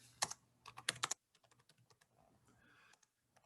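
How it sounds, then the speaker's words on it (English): Typing on a computer keyboard while an address is entered: two quick bursts of loud, crisp key clicks, then a sparser run of softer, scattered taps, close up and with no speech. "I'm going to try to type that in there."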